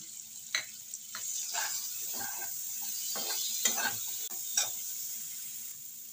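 Coriander, cumin and chilli powder sizzle in a pan of potato and papaya, with a steady low frying hiss and a few soft scraping stirs, close and moderately quiet, with no talking.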